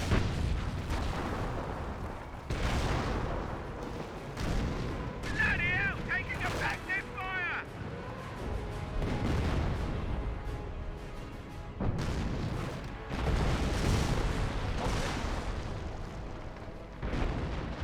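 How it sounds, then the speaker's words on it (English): High-explosive artillery barrage pounding a rifle squad in Company of Heroes, a run of heavy booms and blasts with scattered gunfire that fills the mix, while a commentator talks over it. "the rifle squad just getting hit by a lot of high explosive"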